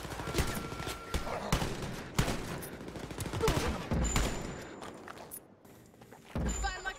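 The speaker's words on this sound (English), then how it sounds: "Hey, who's shooting me?" Bursts of gunfire in the video game Wolfenstein Youngblood, sharp repeated shots mixed with footsteps and thuds, moderately loud, with occasional quieter gaps.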